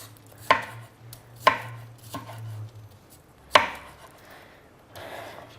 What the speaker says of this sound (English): All you got to do is chop the capsicum